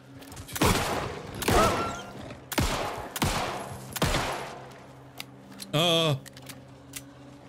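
Several loud, separate gunshots in the survival horror game Alan Wake 2, each a sharp crack with a ringing tail, spaced about a second apart, followed by a short burst of other game sounds.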